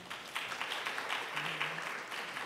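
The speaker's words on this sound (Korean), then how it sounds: "박수를 부탁드리겠습니다" Soft, distant applause from the audience at an academic conference on sports heritage collection, a steady patter of many hands that stays quiet and even throughout.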